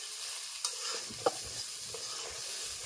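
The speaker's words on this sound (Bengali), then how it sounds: "খুব ভালো করে মশলাটাকে আমি কষিয়ে নেব" Spice paste for a meat dish sautés in a hot pan under a constant hiss of sizzling, with a couple of quick spatula scrapes cutting through the frying.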